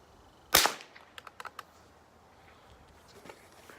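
A Marlin 89C rifle fires higher velocity ammunition: one sharp, loud crack, followed by a few faint metallic clicks and rattles of the action.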